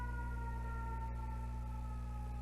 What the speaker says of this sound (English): I think it's a fire truck.